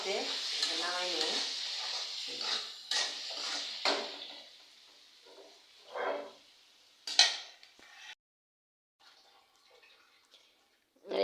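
Vegetable bhaji fries in a pan and is stirred, with close scraping and clattering against the pan and a soft sizzle in between. Speech occurs early on, and the sounds thin out toward the end.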